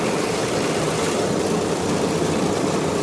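A combine harvester engine running at a steady, loud idle just after starting, with a dense, unbroken rumble close by and no voices.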